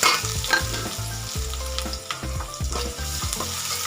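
Chopped onion with fennel seeds frying in hot oil gives a steady sizzle. Spoon-stirring clatter runs over it in a repeated rhythm, up close, with no talking.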